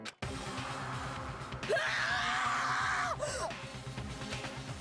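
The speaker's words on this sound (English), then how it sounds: "a wild, almost primeval scream escaped from my mouth" A character screams in Danganronpa: Trigger Happy Havoc, a wild, sustained cry lasting over a second that rises and then breaks off, set over steady game music and loud effects.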